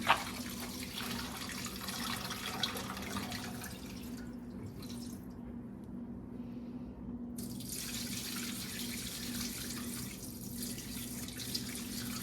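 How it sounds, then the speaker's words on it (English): Water poured into the bottom of a Meadow Creek TS120 smoker, a steady splashing, trickling pour close by that runs the whole time with a brief change partway through. "we are just going to add some water to the bottom of this, and it'll just go right in"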